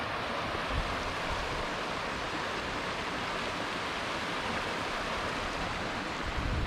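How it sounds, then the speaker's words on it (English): A river flows past a riverside campsite, giving a steady, broad rushing of water that stays even and continuous from start to finish with no voices. "River."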